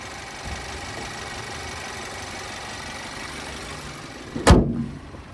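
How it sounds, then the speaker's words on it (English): Under the raised hood of a 2022 Volkswagen Passat SE, its 2-liter turbocharged 4-cylinder idles with a steady, even hum, broken near the end by one loud sharp thud, probably the hood closing. "take a look underneath the hood. A bit heavy, but there's that 2-liter turbocharged 4-cylinder."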